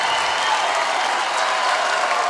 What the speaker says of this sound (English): You can hear the Warsaw crowd underneath